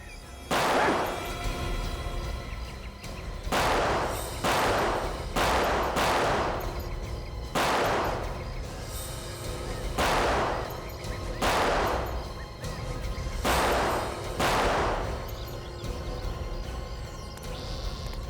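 Gunfire in a Hindi TV crime drama, a series of about ten loud, close single shots spaced a second or two apart, each with a ringing tail over a steady noisy background.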